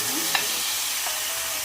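Sliced frozen mushrooms tumble into a pan of frying white onions, raising a steady soft sizzle with a brief stir clatter near the start, close and moderately loud with no talking.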